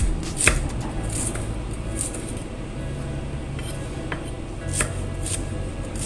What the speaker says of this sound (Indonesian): Ini ya, bawang merahnya diiris seperti ini.